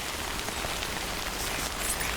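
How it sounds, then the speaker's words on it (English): Rain in the video game Death Stranding, a steady hiss of downpour on surfaces with no break, fairly soft and even from start to finish. "Whoa, it just started raining."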